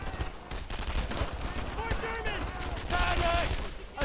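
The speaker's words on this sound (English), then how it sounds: "Then we have that machine gun over there." Machine gun fire crackles in the WWII shooter Brothers in Arms: Earned in Blood, with rapid bursts of shots and impacts blended with voices throughout.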